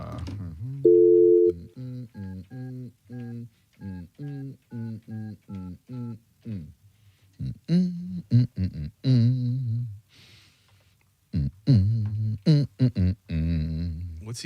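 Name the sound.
telephone call being placed, dial tone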